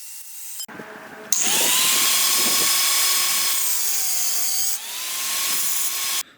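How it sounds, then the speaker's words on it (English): An angle grinder cutting by hand through a wooden workbench beam, starting with a brief burst and then a loud continuous high whine whose pitch dips and recovers under load, close up with no talk. "still perfectly doable with an angle grinder by hand"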